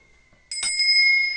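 A single ritual bell is struck once, ringing out clearly with a bright metallic tone that sustains and slowly fades, alone without talk.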